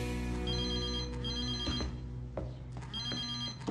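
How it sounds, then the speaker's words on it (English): A telephone rings in repeated electronic bursts, several rings in steady rhythm at moderate level, heard alone with no voices over it. "I hear my phone ring, and I rush to the phone."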